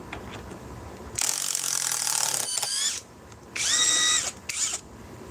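A cordless drill-driver set to bolt tightening mode whirs in two separate bursts, each ending in rapid ratcheting clicks of the clutch, loud and close with no talking.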